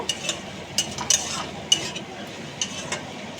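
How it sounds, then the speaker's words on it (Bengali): Chopped green chillies being stir-fried with capsicum, potato and tomato in a pan: a soft steady sizzle with intermittent scraping clicks of a spatula against the metal, close and moderate in level. "তারপর আমি দিয়ে দিচ্ছি লঙ্কা কুচি। ভালো করে এটাকে আমি কষে নেব।"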